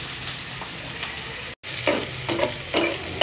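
Small shrimp fry with onions in a pan for a lentil-and-shrimp curry, a steady close sizzle broken by a brief silence and a few clattering spatula stirs.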